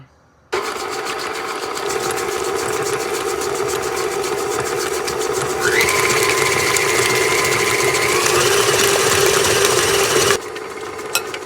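An electric mixer whirs loudly and steadily for about ten seconds while beating mint chocolate chip cookie dough tinted with green food coloring. Its motor pitch rises partway through, then it stops abruptly.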